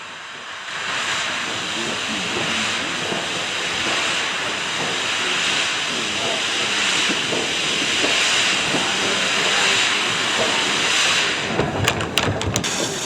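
Andrew Barclay 2332 of 1952, an industrial steam locomotive, releases a long steady hiss of steam close by, a constant bright rushing tone lasting many seconds, with a few sharp clanks near the end.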